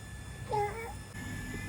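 A cat sitting behind a house gives a single short meow, fairly faint against a low background hum, with no talk.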